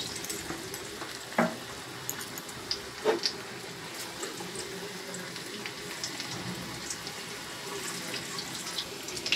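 Onion fritters (fuluri) of batter dropped into hot oil, a steady low frying hiss with a few small pops and clinks of a spoon, quiet and close with no voices.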